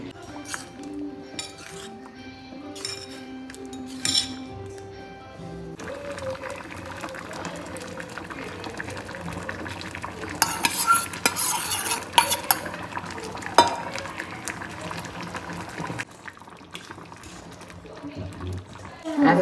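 A spoon stirs dal in a metal pot for a baby's meal, with scraping clinks against the pot, then busier clattering of utensils midway, over background music and some talk.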